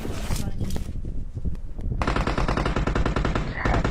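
Rapid machine gun bursts from an MG13 in a video game, loud and close, sustained rattling fire with short pauses between long strings of shots.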